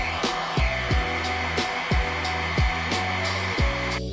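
Heat gun set to 450 degrees Celsius warming screws on the underside of a skateboard, a loud continuous whooshing blow with a steady hum, broken by faint rhythmic clicks, cutting off abruptly at the end.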